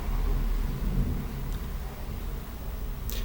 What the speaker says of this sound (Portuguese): está trovejando de novo em Porto Alegre